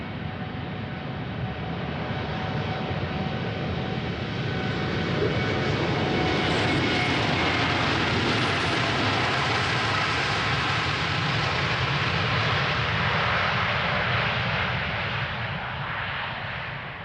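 A jet airliner departs Schiphol's runway 36L, its engine roar swelling gradually to a broad, powerful rumble and then easing slightly as it climbs away, heard from a distance and without speech.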